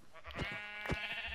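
Sheep bleating in Minecraft: two short, nasal bleats about half a second apart, fairly close and clear, with nothing else heard.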